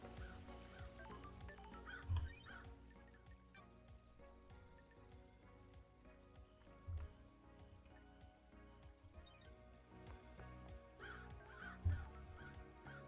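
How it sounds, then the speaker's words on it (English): Crows cawing in the video game Paradise Killer, several times at spaced intervals over a quiet, droning ambient background, with soft rain-like patter. "Keep hearing birds, but I don't see any."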